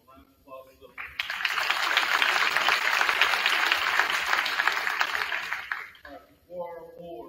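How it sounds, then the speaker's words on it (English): A crowd at a high school sports awards gathering bursts into sustained applause, many hands clapping for several seconds before fading, with speech just before and after. "So round of applause to them."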